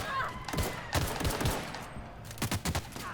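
Gunfire in the video game The Outer Worlds as enemies' legs are shot: several sharp shots in irregular bursts, the first few spaced out and a quicker cluster near the end, over game background sound.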